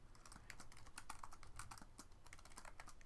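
A name being typed on a computer keyboard, a quick, steady run of light key clicks heard close and alone at low volume.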